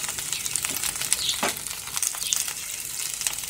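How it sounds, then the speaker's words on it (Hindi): Potatoes and cauliflower sizzle lightly in a frying pan, a steady close crackle with occasional stirring scrapes and no voices. "इसको हम हल्का हल्का फ्राई करके निकाल लेंगे इस तरह से। तो हल्का सा फ्राई कर लेते हैं।"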